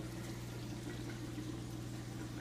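A deep water culture hydroponic system hums steadily as water circulates just after restart, with a constant low pump drone and faint watery wash, fairly quiet and unchanging.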